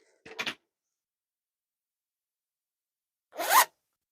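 Two quick zipper pulls on a handmade fuzzy zipper pouch, separated by a few seconds of silence, each a short, close, raspy zip.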